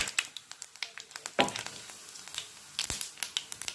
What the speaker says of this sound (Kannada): ಇದಕ್ಕೆ ನಾನು ಚಕ್ಕೆ, ಲವಂಗ ಮತ್ತು ಮಸಾಲೆ ಪದಾರ್ಥನ ಹಾಕ್ಕೊಳ್ತಾ ಇದ್ದೀನಿ. ಸ್ವಲ್ಪ ಫ್ರೈ ಆಗಬೇಕು